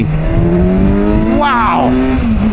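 A 2019 Kawasaki Versys 1000 SE motorcycle pulls hard in second gear, its engine note rising steadily in pitch over a couple of seconds, loud and close over continuous wind rush.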